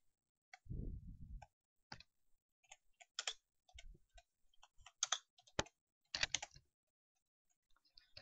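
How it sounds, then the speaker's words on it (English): Rapid bursts of clicks from a computer keyboard, typed quickly in scattered clusters between short pauses, close and fairly quiet. "Okay, I'm typing fast right now."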